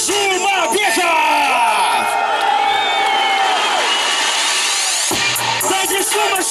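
A large crowd at a mixed martial arts weigh-in ceremony cheers, whoops and yells loudly and continuously, with a brief drop before the roar resumes.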